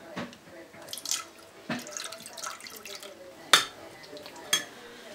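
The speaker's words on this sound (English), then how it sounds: "And just pour that right into your saucepan." Milk is poured from a cup into a saucepan, making soft splashing and trickling with a few sharper drips and clinks, fairly quiet and close.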